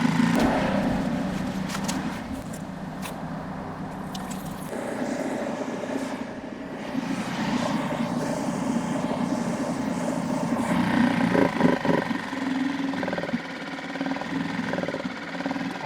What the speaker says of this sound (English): gonna turn the fuel off and just let it run. Put the cowling on just because it's loud with no cowling on it